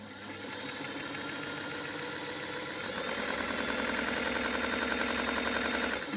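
A Singer 327k sewing machine runs steadily after oiling, a continuous mechanical whir with a fine rapid ticking pulse that grows slightly louder partway through, close and alone without voices.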